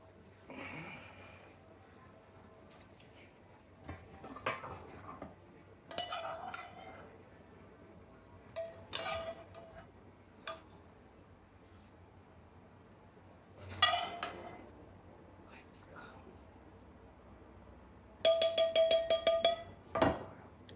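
Home cooking with pots, pans and cutlery: intermittent clinks, scrapes and clatters of metal utensils against cookware, spaced out, with a brisk rapid rattle near the end, heard close.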